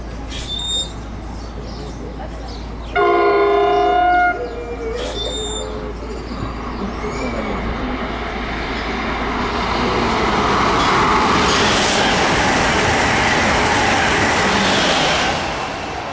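A commuter train pulls into the Princeton Junction platform with a rising, close rumble and rail noise building in the second half, after a tonal station chime and announcement-like tones near the start.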